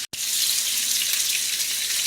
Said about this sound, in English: just a little bit of water in here. We're just going to have enough water to cover the roast.